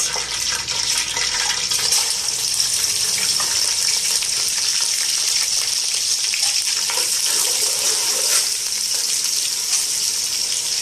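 Onions fry in hot ghee in a pot on the stove for chana pulao, making a loud, steady sizzle that runs unbroken from start to finish with no voices.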